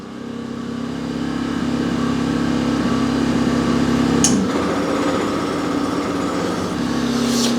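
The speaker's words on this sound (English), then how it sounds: "Try to listen out for the generator." Powersmart PS55 1000-watt inverter generator running steadily under the load of a compressor starting up. Its engine drones at an even, fairly loud pitch, with a brief dip partway through as the surge hits.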